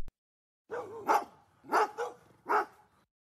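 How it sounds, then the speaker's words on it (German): Dogs barking in a park, three distinct loud barks spaced roughly evenly over a few seconds, close by and with no talk. "Wir hören die Hunde im Park bellen."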